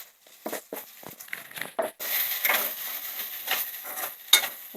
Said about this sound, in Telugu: ఇప్పుడు మంచిగా కలుపుకోవాలండి. మసాలాలన్నీ వీటికి పట్టేలా మంచిగా కలుపుకోవాలి.